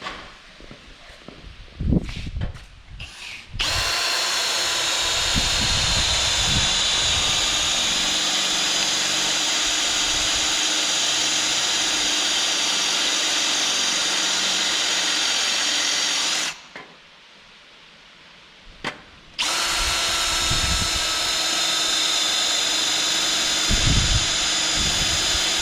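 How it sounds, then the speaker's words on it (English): A power grinder whines loudly for a long stretch grinding metal on a Chevy 5.3 LS LM7 engine, cuts out briefly, then starts up again, with a few clanks and handling noises around it. "I'm gonna grind these off flat"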